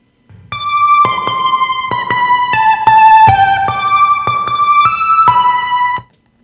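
A Behringer UB-XA synthesizer plays its B8 Robot Rave patch, a loud, bright, buzzy lead line of short, punchy notes shifting in pitch over about six seconds, alone without voices.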